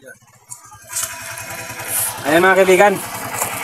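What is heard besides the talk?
motorcycle engine running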